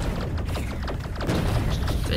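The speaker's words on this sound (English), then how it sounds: "Goodness, that sound is loud, that boom." Explosive cannon shells from a tank boom in Factorio against enemy bases, a steady dense rumble of repeated thuds and blasts with sharp crackling hits layered over continuous low-end noise.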